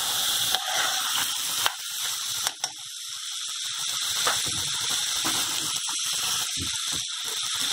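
Rice frying in a pan, a steady close hiss and crackle with occasional sharp clicks and scrapes, no talk.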